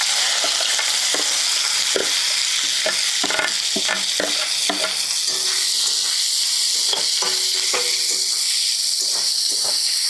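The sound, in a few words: chopped onions frying and being stirred in a pan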